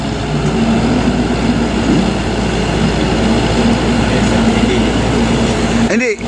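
A trash skimmer machine working on the Pasig River produces a steady, loud mechanical rumble and churning drone throughout, with a brief higher whine near the end.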